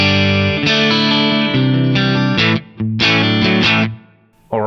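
An electric guitar rings out loud and sustained through an amp model with a greenback cabinet impulse response and a touch of reverb. Its chords and held notes are slightly overdriven and are cut by a few brief pauses.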